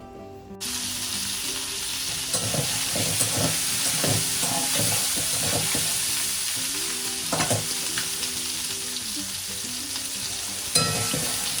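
Fish curry sizzles steadily in a pan on a home stove, a constant loud frying hiss broken by repeated stirring scrapes and clinks, with no voices over it.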